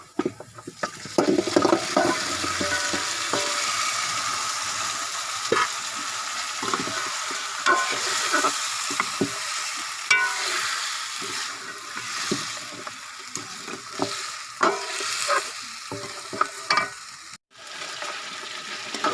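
Steady sizzling from a hot pan goes on throughout, with scraping and clattering as beef trotters and spices are stirred and fried, close by and without talk.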